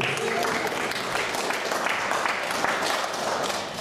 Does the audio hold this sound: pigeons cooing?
no